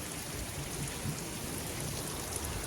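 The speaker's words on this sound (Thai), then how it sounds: "ตอนนี้ฝนถล่มลงมาแรง มากๆเลยนะครับ" Heavy rain pours down steadily on a cold night outside a house, a dense continuous hiss with no break and no voices.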